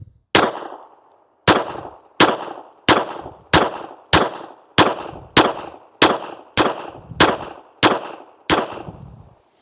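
Smith & Wesson Bodyguard 2.0 .380 pistol firing Fiocchi Range Dynamics ball ammunition, twelve sharp, loud shots in a steady string with brief pauses, no talking.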